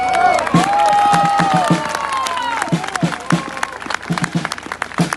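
Audience applause after a speech at a political rally, loud crowd clapping with cheers mixed in and tonal whistles or voices over it, thinning into scattered claps near the end.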